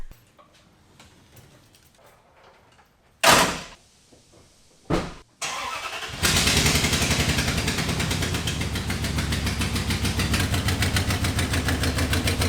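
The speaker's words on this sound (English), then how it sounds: "I left this truck in here because this exhaust leak keeps getting worse" A truck engine with an exhaust leak starts and then idles loudly and steadily, with a rough, rapid puttering rhythm; a few door-like thumps come before it.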